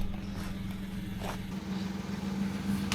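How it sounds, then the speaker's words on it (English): A 2023 Fiat 500 engine hums steadily from inside the car while driving, a low, even drone that carries on throughout without any talking. "For such a tiny little car, you know, it sounds like a Lamborghini or something"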